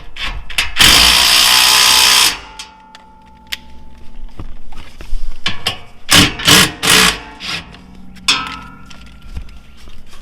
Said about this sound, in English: I'm going to go ahead and tighten down the basket itself